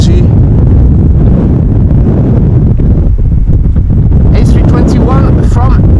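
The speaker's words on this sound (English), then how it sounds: "Third day now that it's been a very windy day over here at Schiphol Airport. Winds blowing from the west." Strong westerly wind roars steadily across a microphone at Amsterdam Schiphol Airport during Storm Pia, a loud, continuous buffeting rumble with brief higher whistles near the end and no voices.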